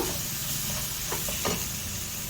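Ground masala powder fries in a pan for a squid stuffing, giving a dense, even sizzle close up with a couple of soft utensil scrapes near the middle.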